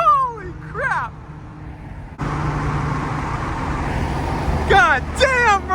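Loud muscle car roaring past on a scenic highway, a sudden close burst of engine and road noise that holds for several seconds, with excited voices talking over it before and after.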